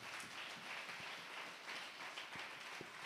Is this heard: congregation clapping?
yes